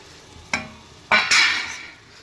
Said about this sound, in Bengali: দিয়া মশলাগুলো দিয়ে আমি একটু ভালো করে কষাম